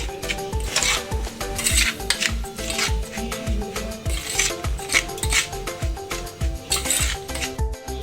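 Biscuit crumbs being mixed with garam masala, pepper and cumin powder, a loud, close, rhythmic scraping and rubbing with quick repeated strokes, no speech.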